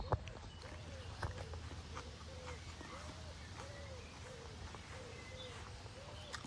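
Birds call outdoors near a vegetable garden, a soft repeated series of short upward-bending notes under steady low rumble and scattered footsteps-like thumps.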